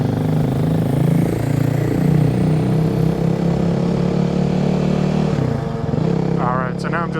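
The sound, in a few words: Kawasaki KLX 300 dirt bike with FMF Q4 exhaust riding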